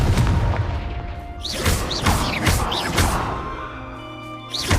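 Repeated Confringo fire-blast spells in Hogwarts Legacy, a series of loud booming bursts with whooshing tails, several impacts in quick succession over continuous game noise.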